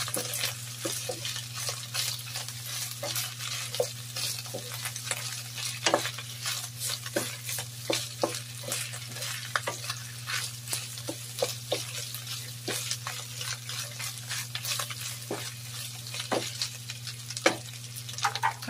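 Pork liver frying in a pan for pancit guisado, a steady close sizzle with frequent clatter of a utensil stirring and scraping throughout, no voices.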